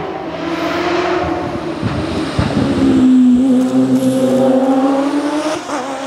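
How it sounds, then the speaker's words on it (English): A race car's engine roars past with a rising then falling pitch, crackling exhaust pops scattered through the loud, sustained drone. "you can hear the exhausts popping. It's an amazing sound."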